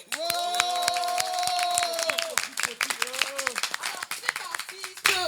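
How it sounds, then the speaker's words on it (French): An audience at a French rap showcase claps and applauds loudly, with cheering voices and sustained musical tones at the start, the clapping thinning toward the end. "Un banc d'applaudissements pour le quartier Barrière s'il vous plaît"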